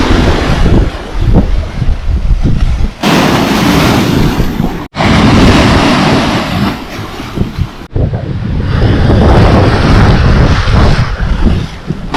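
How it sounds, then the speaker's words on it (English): Strong sea waves roll in at a river delta beach near Udupi, India, a loud roaring surf that swells and crashes in long surges, heavily buffeted by wind against the microphone. "the waves are really strong"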